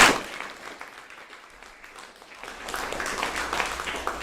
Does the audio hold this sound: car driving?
no